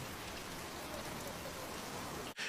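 Heavy rain falling on a city street in France, a constant dense patter and hiss, loud and close, cutting out abruptly near the end.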